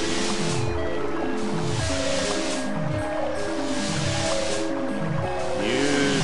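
Water in the I Have No Mouth and I Must Scream adventure game, a steady wash of sloshing, surf-like noise with faint drips, running continuously at moderate level under a low musical drone.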